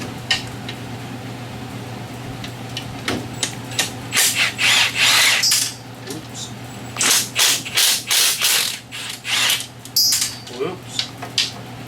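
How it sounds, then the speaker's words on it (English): Ratchet fitted with an extension and 10mm socket backing out three bolts on the inner clutch housing of a 2017 Polaris RZR Turbo, giving repeated bursts of close, sharp metallic clicking separated by short pauses. "get extension in a 10mm socket, and you're going to go ahead and remove these 3 bolts here"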